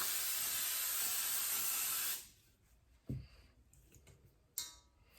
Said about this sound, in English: I'm going to give my cookie sheet a spray.